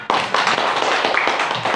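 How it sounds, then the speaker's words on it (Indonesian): Classroom applause for a student, a burst of many hands clapping that runs steadily through the whole moment, fairly close and loud. "Tepuk tangan untuk Farhan"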